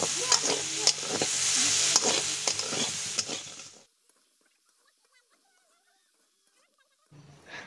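Dana kola bananas frying in a pan give off a bright, dense sizzle with stirring clatter for nearly four seconds, then cut to near silence before a brief return of sound at the end.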